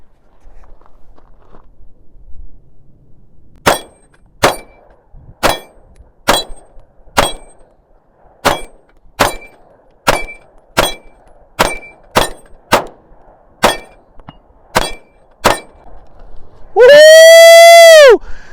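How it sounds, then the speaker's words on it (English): Roughly fifteen sharp, evenly paced gunshots ring out one after another from a Sig Sauer P320 X-Compact pistol aimed at steel targets, each crack loud and isolated, ending with a sustained bright ringing tone. "We're going to put these shots down range."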